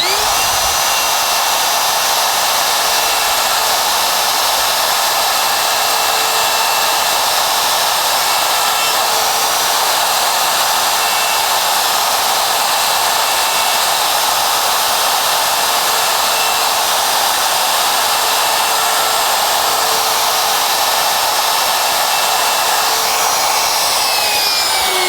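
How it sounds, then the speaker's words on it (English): An electric router cuts sharp inside corners of letters in wood, giving a loud, steady high-pitched whine that runs almost unbroken for the whole stretch, with no talk over it. "that's where I would have to lift my router in order to get a sharp point"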